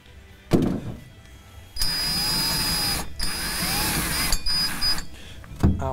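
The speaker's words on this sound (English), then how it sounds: "I'm going to make a couple runs at it, and then I'm just going to get through the pilot hole to where the hole saw" Hole saw on a power drill cutting through the steel frame of a 2018 Dodge Cummins truck for a B&W turnover ball hitch; two loud sustained grinding runs with a brief pause between, bracketed by short thumps.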